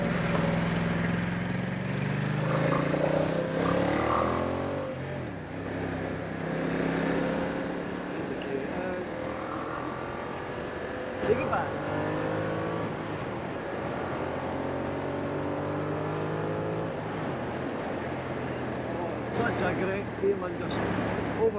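A Ducati XDiavel S motorcycle engine drones steadily from up close, its pitch sweeping upward through gear changes as it accelerates, with wind rush all through and someone talking over it.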